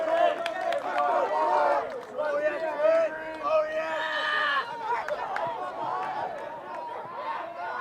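Crowd at a boys' varsity lacrosse game between Woodcreek and Bella Vista, a dense, lively murmur of cheering and shouting voices that swells and dips, with some talk mixed in.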